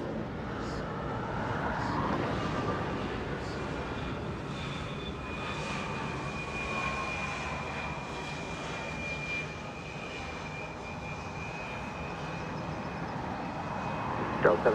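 A SkyWest Embraer E175 jet coming in at LAX, its engines making a steady distant roar with a thin whine across the whole stretch.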